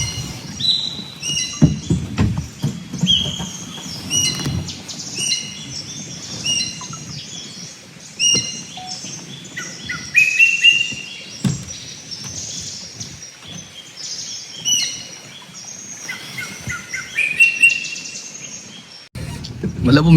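A bird mimicking other birds sings a varied string of chirps, whistles and trills, switching between call types, with scattered knocks and rustles in the background, in Jim Corbett forest.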